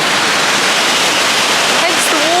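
Queen Mary Falls waterfall in Killarney, Queensland, running heavy after rain and throwing off lots of spray, a loud steady broadband roar filling the whole clip, with a faint whistle-like tone near the end.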